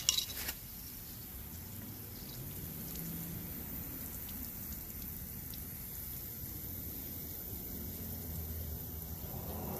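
Water trickles and drips from a loosened hose fitting on a Ryobi 2000 psi electric power washer. The soft, steady patter runs faintly and evenly after a brief clink at the start.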